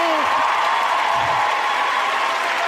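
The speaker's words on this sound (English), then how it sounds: "We can give him applause." Steady, dense applause from a crowd fills the whole stretch at an even loudness, with a faint voice rising briefly at the start.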